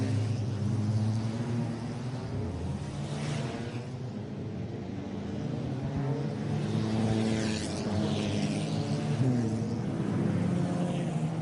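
A race car on its warm-up lap spins its front tyres to heat them, heard as a continuous low rumbling engine drone with some revving, fairly distant and steady throughout.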